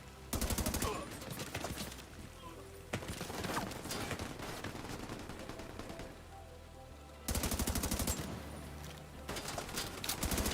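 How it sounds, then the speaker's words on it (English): Video game gunfire comes in sustained automatic bursts and rapid volleys that keep going almost nonstop, loud and dense, with voices calling out underneath. "Keep firing and take them out!"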